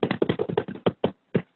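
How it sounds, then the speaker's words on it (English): A small burst of hand claps, about a dozen quick claps that thin out into a few spaced single claps before stopping, close and fairly dry, from what sounds like one or two people. "Applause."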